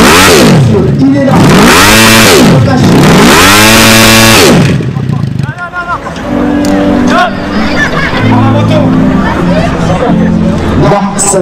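Hill-climb motorcycle on a French mountain course, engine revving in loud rising and falling bursts with a failing motor, then sputtering lower over crowd chatter and an announcer talking.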